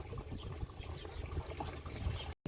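Dirty water gushes from a pond filter's drain hose, a close, low, continuous splashing trickle with uneven gurgles, faint overall and cut by a brief dropout near the end.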